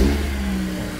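Honda K24 VTEC four-cylinder swapped into a Toyota MR2 Spyder revs briefly, a mid-pitched engine note rising and holding, close and fairly loud.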